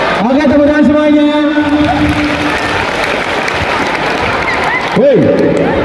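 A school audience at a high school motivational and anti-bullying event breaks into loud applause and cheering, dense clapping that fills the space while voices shout over it.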